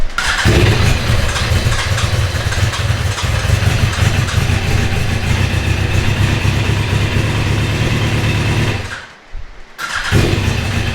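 A loud carbureted race car engine cranks, fires and runs rough and steady at close range, then sputters and dies briefly before catching again.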